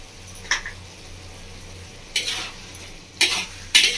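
Ghee stirred into bottle gourd and prawns frying in a pan, a faint low sizzle under a few sharp stirring bursts of spoon against the pan, spaced out and growing more frequent toward the end.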